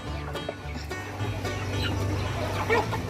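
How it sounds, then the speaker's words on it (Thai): Fighting roosters kept in a chicken coop on a farm cluck and call in short, irregular bursts, close by, with low clucks and scattered higher squawks over a soft background murmur. "ไก่ชนนี่ก็ จะไม่ขายนะครับ จะแค่จะเลี้ยงไว้เล่น"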